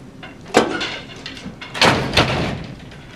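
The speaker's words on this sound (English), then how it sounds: "Elena, bar the doors, please." Wooden doors in a mock-trial setting thud and bang as they are barred shut, two loud knocks separated by a short pause, close by.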